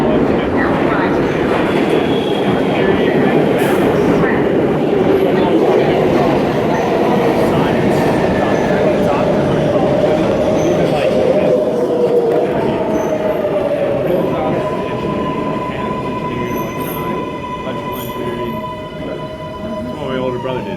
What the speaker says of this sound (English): the next L train is now arriving.